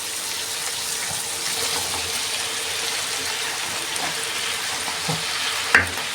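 Chicken hearts fry on a bed of onions in a pan, a steady close sizzle throughout, with a short clink of a utensil near the end and no talk.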